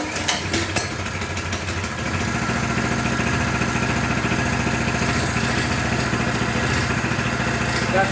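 An Axis M200 mini bike engine idles steadily as it warms up after a choke start, a close, continuous low putter with a rapid even pulse and no talk.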